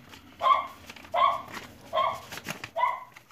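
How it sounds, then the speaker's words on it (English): An excited dog barks four times in an even rhythm, moderately close and fairly loud, with faint background noise between the barks and no talking. "her dog is going crazy, as always"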